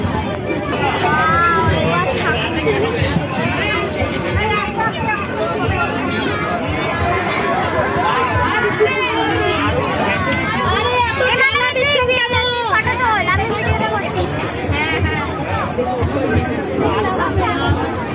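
A dense crowd chatters and murmurs continuously at a Durga Puja Ashtami outing to see the deity, with close voices of adults and children overlapping in a loud, busy hubbub.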